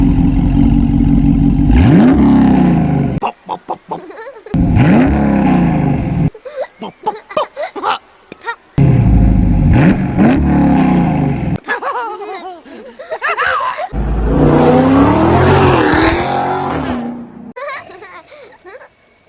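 Dodge Charger Scat Pack fitted with Kooks long tube headers, loud close exhaust revs in repeated bursts, each rising and snapping off, separated by short quiet gaps, with a long harsh rev near the end.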